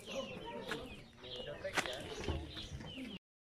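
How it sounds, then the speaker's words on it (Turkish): Clucking from a flock of Indian fighting-breed chickens with bare necks, hens and chicks together in a village yard in Kaynarca, Kocaeli, several birds calling close by in a busy, overlapping chorus. "Dolu tavuk var burada."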